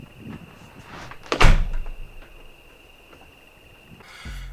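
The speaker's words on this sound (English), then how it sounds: "See, here's the door." A door opens or closes with a loud thump and rattle partway through, a faint steady high hum carrying on, and a rustle at the end.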